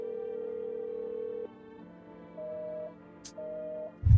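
A telephone in a video game gives steady electronic tones after dialing, one sustained tone followed by shorter shifting beeps, with a brief click and a soft thump at the end and no speech.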